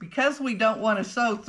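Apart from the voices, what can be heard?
None of the usual background noises is heard.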